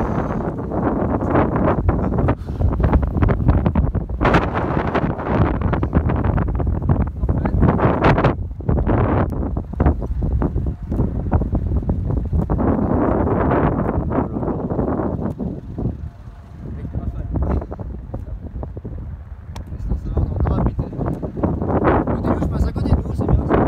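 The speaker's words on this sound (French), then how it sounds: "Il y a un petit rafale là." Strong storm gusts of wind buffet the microphone outdoors in Isère, France, in a continuous roar that swells and eases, with people talking intermittently over it.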